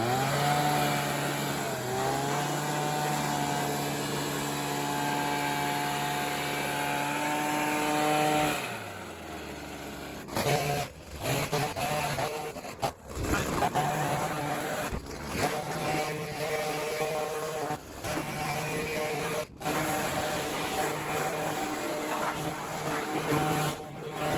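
Compressed air blasts dust out of a 1985 GMC Wrangler pickup bed and along the running boards, a loud steady rushing hiss with a motor hum that breaks into choppy bursts and gusts after the first several seconds.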